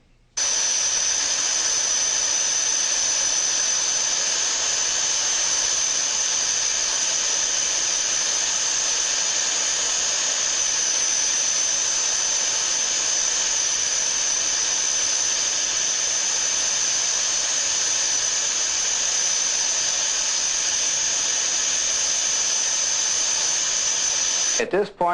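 A torch welds a capillary tube into a refrigeration evaporator, giving a continuous close hiss with a steady high tone that runs unbroken for the whole stretch before cutting off.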